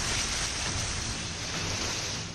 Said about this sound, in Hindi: भारी बारिश, जल भराव